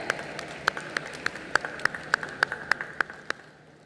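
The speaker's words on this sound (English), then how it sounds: "A round of applause, ladies and gentlemen" Scattered applause at the closing ceremony of the 53rd International Film Festival of India, with a dozen or so sharp, distinct claps spaced fairly evenly over a soft background hiss, fading out toward the end.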